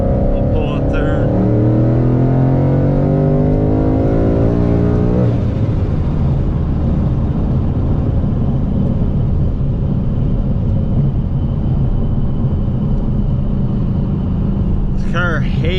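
A Vortech supercharged Ford Mustang on street tires revs and accelerates through the gears, pulling in third, a loud rising roar that drops into a steady rumbling drone, with some voice underneath.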